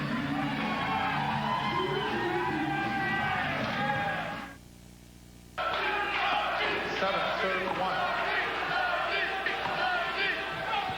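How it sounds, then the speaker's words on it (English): A loud crowd hollers and cheers at a 1997 US Open men's racquetball final in Memphis, a dense roar that drops out briefly midway and then surges back, with a commentator talking over it. "Crowd really hollering for Sudsy Monchik here."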